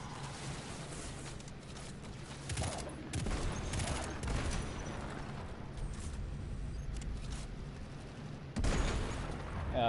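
Gunfire in the shooter game Destiny 2 during a mission's final fight, a continuous dense barrage of rapid shots with booming impacts and a loud burst near the end, with no speech over it.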